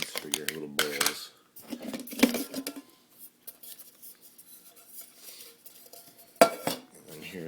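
Lightweight GSI Halulite camp cookware lids and bowls are handled, producing bursts of clinking and clattering metal contacts, with a person speaking between the clanks.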